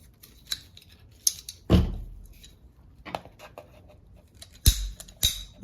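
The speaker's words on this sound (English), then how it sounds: "The amazing thing with a pipe cutter is you can cut them right there." A pipe cutter works on plastic tubing, with sparse clicks and scrapes, a few louder cracking snaps and short ratcheting turns between quiet gaps.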